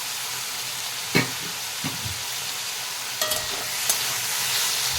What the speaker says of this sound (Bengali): একবার নাড়িয়ে নিলাম